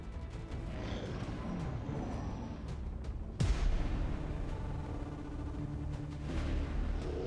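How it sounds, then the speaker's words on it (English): Gunfire in the video game XCOM 2: rumbling in-game battle noise with one sharp, loud gunshot crack midway and scattered faint impacts around it, with no talk. "Heard the gunshots."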